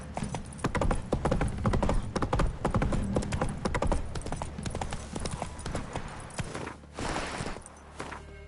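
Geralt's horse Roach trotting in The Witcher video game, with rapid, rhythmic hoof clip-clops thudding loud and close in a steady gait, joined late by a brief breathy snort or rustle.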